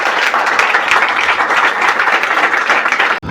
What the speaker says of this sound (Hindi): बहुत ज़्यादा ताली बजा दो जरा निशी के लिए